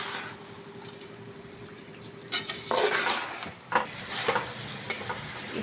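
Chicken pieces stirred in a hot pan while roasting, with a steady sizzle of frying underneath and scraping clinks of a utensil against the pan, growing busier and louder toward the end.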